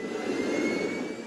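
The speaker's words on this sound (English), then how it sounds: "a jet engine-powered suit that allows a person to take flight" A jet engine-powered flight suit roars steadily and loudly, a continuous turbine rush with a faint high whine running through it, and no voices.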